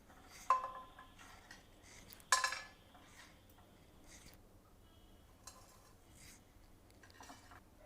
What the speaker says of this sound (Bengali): এই হোল স্পাইসগুলোকে আমরা হালকা করে রোস্ট করে নেব।